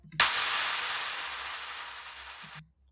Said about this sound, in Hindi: एक क्लैप आता है जिसमें बहुत सारा रिवर्ब होता है